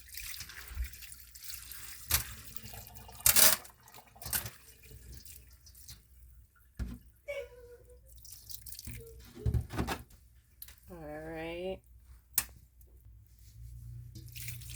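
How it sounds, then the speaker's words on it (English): Spring water pours and splashes through a strainer over sea moss in uneven bursts, close by, with a brief spoken word partway through. "I'm just pouring more spring water on here"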